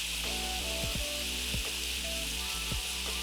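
Ground meat sizzling steadily in a hot frying pan with black pepper, onion powder and ground ginger, a continuous close crackle with occasional scraping stirs.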